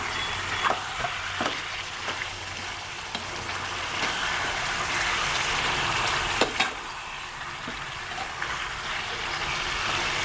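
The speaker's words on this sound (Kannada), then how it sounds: "ಈಗಲೂ ಕೂಡ ಎಣ್ಣೆಲಿ ಕರಿಬೇವು ಫ್ರೈ ಆಗುತ್ತೆ" Curry leaves fry in hot oil in a pan while pepper chicken is being cooked. A soft, steady sizzle runs throughout, and a few sharp clinks and scrapes of stirring break in now and then.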